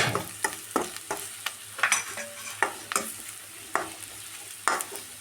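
A spoon stirs turmeric, coriander and chili powder frying in oil in a pan, with a sizzle under a series of sharp irregular scrapes and knocks, and no talking.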